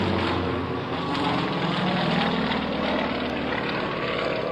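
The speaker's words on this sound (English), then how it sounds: "Venunet M14P 9-cylinder radial engine, swinging that German-made 3-blade MT propeller" A Yak 55 aerobatic plane with an M14P 9-cylinder radial engine and German-made three-blade MT propeller drones steadily overhead at an air base open house, a loud, sustained throaty roar with slight swells in pitch.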